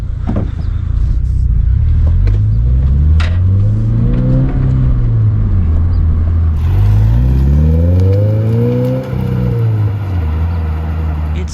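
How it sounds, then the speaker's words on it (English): Loud exhaust of a 2022 Subaru BRZ with an HKS Spec-L exhaust roaring past, engine pitch climbing and falling as it revs through gears, then a second surge, close and continuous. "My guy's going to be nice enough to film a couple flybys"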